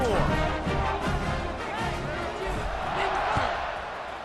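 Stadium crowd buzzes in a college football video game, a sustained murmur of noise with bursts of cheering, while a play-by-play commentator talks over it.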